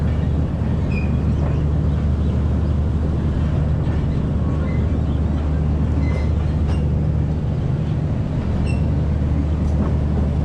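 The Pakistan Express pulls out of Alipur Chatha station, the last stop on a branch line, with a constant loud rumbling roar of rolling train noise and faint squeals and clanks over it.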